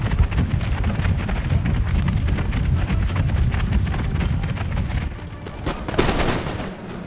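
Volleys of musket fire from camel gunners on a Total War battlefield, Empire Total War, a dense continuous crackle of shots and rumbling battle noise throughout, with a sharper burst near the end.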